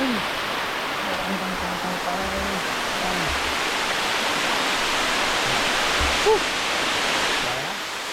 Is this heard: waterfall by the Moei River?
yes